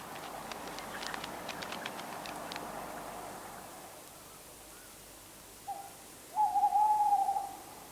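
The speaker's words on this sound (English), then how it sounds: "Tawny owls are often much in evidence in winter and can be heard defending their territories." A tawny owl hoots in winter, defending its territory: a short note, then a longer wavering hoot near the end, clear and fairly close over quiet background, after some faint earlier rustling.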